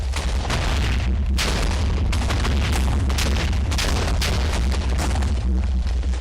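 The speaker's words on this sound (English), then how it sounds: "I had to wait for the explosion, of course." Loud continuous Minecraft TNT explosion barrage, a dense roar of overlapping booms and blasts that stays sustained and heavy for the whole stretch, with no voices.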